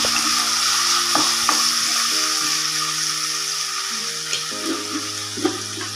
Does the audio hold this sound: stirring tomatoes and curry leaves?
yes